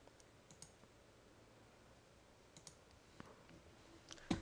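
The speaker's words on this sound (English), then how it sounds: "Keep clicking until you get the hardness that you want." A computer mouse clicks repeatedly while brush settings are adjusted in the GIMP image editor; sparse, quiet, close-up clicks over a faint background hiss, with a slightly louder click near the end.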